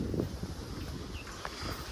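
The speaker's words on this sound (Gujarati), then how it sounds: "આપણા જે રેત પવન બહુ છે કે રેત ઉડે છે" Strong outdoor wind blowing sand around a cattle yard, a steady loud rushing roar with buffeting microphone noise throughout, close and unbroken, with no voices.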